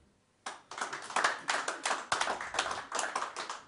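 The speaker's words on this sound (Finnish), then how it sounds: "Taputtakaa kaikki pojat, miehet, jotka käyvät kuntosalilla." A small audience at a comedy show bursts into clapping after a short quiet pause, individual sharp hand claps in an uneven, rapid patter, fairly close and moderately loud, without voices.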